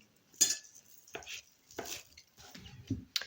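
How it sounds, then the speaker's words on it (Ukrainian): A knife chops fresh herbs on a board in a home kitchen, a handful of sharp, irregular cutting strokes with quiet pauses between them. "Тепер поріжемо нашу зелень."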